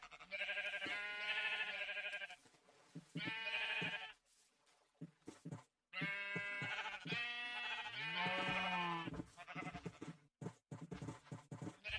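Repeated Minecraft sheep bleats from gray sheep, loud and close, in several long wavering calls separated by short pauses.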